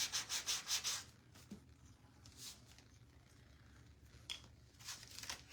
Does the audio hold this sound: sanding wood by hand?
yes